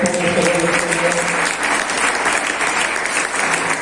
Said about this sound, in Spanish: Aplaudo a Jesús de Nazaret.